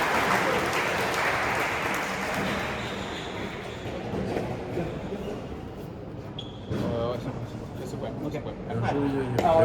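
Crowd applause at a hand-pelota (main nue) match in the trinquet de la Négresse, a steady broad clapping wash filling the indoor court, with a commentator talking over it.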